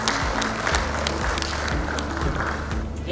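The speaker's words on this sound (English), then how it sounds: "Please invite and welcome with a round of applause." An audience at an investment meeting claps to welcome a speaker to the stage, brisk steady applause with scattered individual claps standing out, close and lively.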